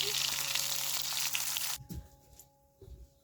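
Pohala fish frying in hot oil, a loud dense sizzle that cuts off sharply partway through, followed by a few faint clinks and quiet stirring sounds.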